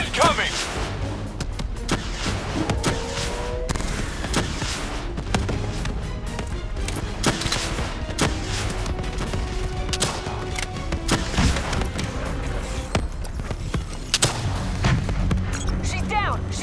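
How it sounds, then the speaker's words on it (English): Explosions and steady gunfire from the Call of Duty Black Ops 3 campaign, loud and continuous, with booming hits and rattling shots layered over a dense battle mix and voices talking throughout. "Javelin missiles incoming!"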